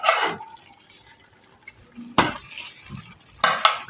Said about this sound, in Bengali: এখন এগুলোকে ভালো করে মিশিয়ে নিচ্ছি।